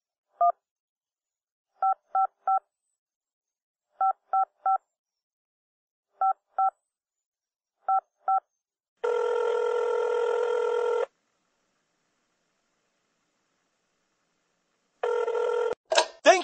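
Phone keypad tones beep in short clusters of one to three across several seconds, then a long ringback tone sounds twice, the second ring cut short as the call connects; quiet background, no talking.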